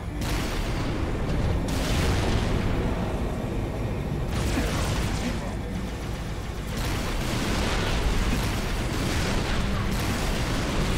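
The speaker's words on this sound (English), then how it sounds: "Oh, that's the super cannon." Super cannon fire in the video game Halo: Reach, heard as a dense, continuous roar of heavy booms and explosions that stays loud throughout with surging bursts.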